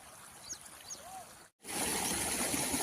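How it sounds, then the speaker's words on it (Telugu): Irrigation water from a canal flows into a farm field in the early morning, a steady broadband rush with birds chirping faintly. The sound cuts out briefly midway, then returns louder and fuller. "వాటర్ ఇలా పోతూ ఉన్నాయి"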